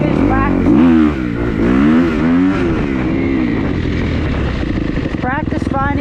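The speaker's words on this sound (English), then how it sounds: "don't mind how our wheelies are a little weird, because this rear tire is slick, so it has to wind up a little bit for it to grab traction" A motorcycle on a slick rear tire revs hard through a wheelie, its engine note rising and falling in repeated loud, close swells, with a voice talking over it.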